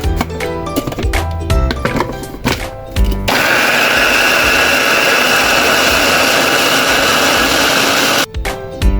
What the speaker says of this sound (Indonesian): Pertama kita haluskan bumbu ya.